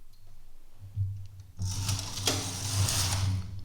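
A domestic knitting machine carriage clatters across a row of needles with yarn, starting with faint mechanical ticks and then a louder, continuous rattling sweep close by.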